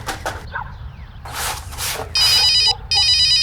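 A telephone rings in two loud, steady electronic bursts near the end, after some muffled movement and knocking sounds in a room.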